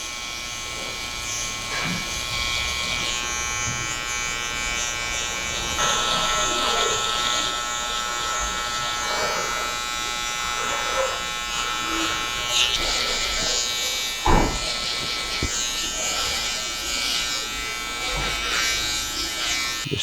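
Electric hair clippers buzz steadily and close up, cutting hair clipper-over-comb on a long-topped curly cut, with a barber talking at times over the hum.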